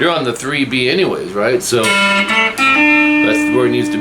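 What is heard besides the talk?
No everyday noise stands out behind the speech.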